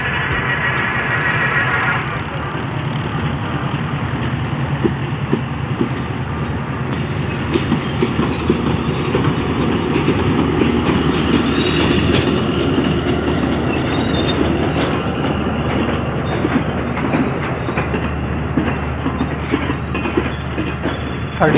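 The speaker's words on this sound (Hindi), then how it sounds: "इसकी लीड पर है ZCU26421 लोकोमोटिव, जो इसको फैसलाबाद तक लीड करेगा" The Sir Syed Express passes close by, hauled by a ZCU locomotive, with a loud continuous rumble of engine and rolling railcars, steady clattering wheels and faint squeal throughout.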